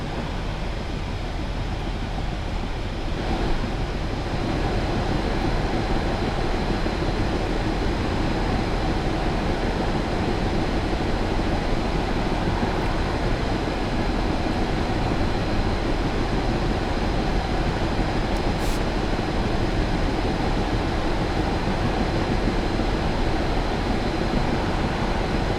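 Union Pacific GTEL turbine locomotive on Sherman Hill in Train Simulator, a loud, steady roar and rumble that holds constant without pause throughout.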